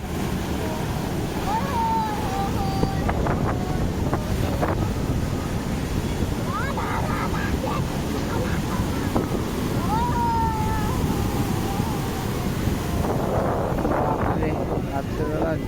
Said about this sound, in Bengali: এই সাইডে কত সুন্দর সমুদ্রের ঢেউ যা উঠছে